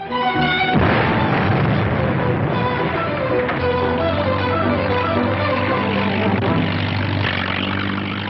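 A gasoline-filled barge explodes in a 1960 science-fiction film, a loud boom followed by a sustained roaring rumble with droning, engine-like tones under it.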